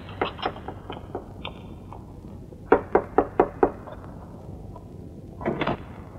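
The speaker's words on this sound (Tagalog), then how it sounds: "tignan mo na tuloy kung sino yung kumakatok" Knuckles rap on a wooden door in a home: a few scattered taps, then a crisp run of five firm knocks, and a final softer cluster, close and clear.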